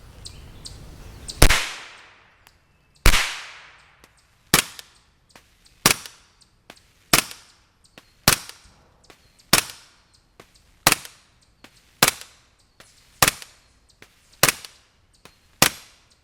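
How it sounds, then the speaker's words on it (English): Subsonic 9x19mm 165-grain FMJ rounds fired outdoors into a dirt backstop, about a dozen sharp, loud reports spaced a second or so apart, each with a short decaying tail, no voices. "Still firing at a dirt backstop."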